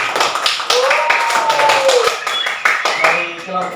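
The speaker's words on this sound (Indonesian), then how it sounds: "mari kita beri aplaus untuk kelompok 1" Fifth-grade classroom applause for group 1, a few seconds of quick, close hand-clapping from the students, with voices mixed in.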